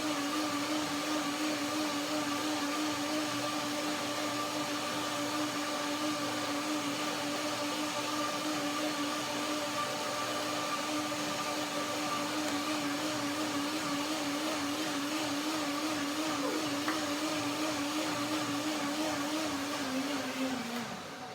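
A blender whirs steadily for about twenty seconds, loud and unbroken, grinding firm macadamia nuts with ginger into a cream dressing, its motor pitch sagging slightly just before it stops.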